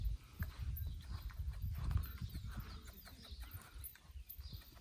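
Lusitano horse moving about a stable yard, its hooves clip-clopping in an irregular run of soft thuds, with hens clucking nearby and steady farmyard background noise.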